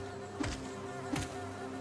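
Bees buzz in the hive area of the video game Hollow Knight, a steady low drone with two brief swells, playing alone without any voices.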